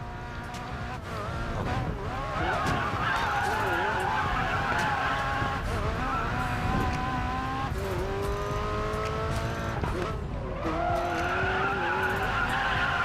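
McLaren 720S in the Racing Master game, engine revving hard through gear changes with shifting pitch and tyres squealing and skidding, loud and continuous for several seconds.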